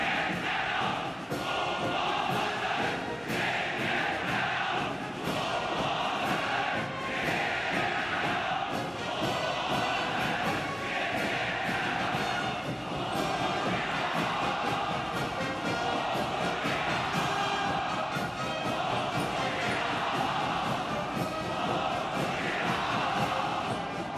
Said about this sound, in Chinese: 热烈的掌声和如潮的欢呼响彻全场